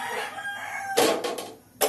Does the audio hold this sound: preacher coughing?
no